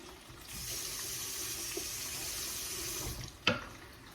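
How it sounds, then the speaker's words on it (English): Water running steadily from a kitchen tap into a sink while something is rinsed, a close hiss with a brief splash or clatter near the end. "let me rinse this off"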